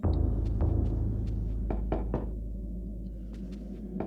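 Wine casks are rapped in a video game, a series of sharp wooden knocks spread over a few seconds against a low steady ambient rumble, fading toward the end.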